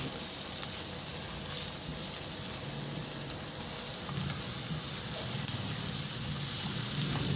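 Chopped onions sizzle and crackle steadily in a hot pan while being stirred, a continuous close frying hiss with faint scraping, no talking.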